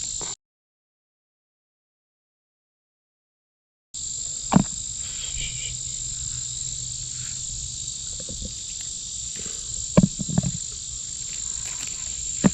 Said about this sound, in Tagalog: Ang daming bubuyog.